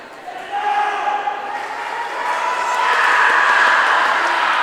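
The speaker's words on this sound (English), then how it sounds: "Pucci getting some love from the crowd." A crowd at a high school swim meet's senior night cheers for the swimmers with a steady, loud roar of voices and shouts in an echoing pool hall, swelling louder toward the end.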